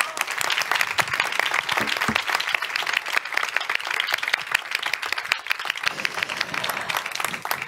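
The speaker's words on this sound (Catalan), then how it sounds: "Aplaudiment, ja està" An audience at a cultural panel session breaks into sustained applause, dense overlapping hand claps filling the room at even loudness throughout.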